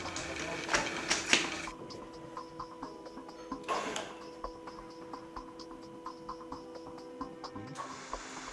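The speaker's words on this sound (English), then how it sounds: "Now connect the machine to the mains and check the direction of rotation of the motor." A BDS automatic beveling machine's motor runs with a steady mechanical hum and faint rhythmic ticking, with a few louder clunks at the start.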